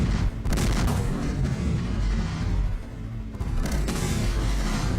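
Cannon shot sound effects for a stop-motion animation: a few loud, close booming blasts with rough, noisy tails, separated by short lulls.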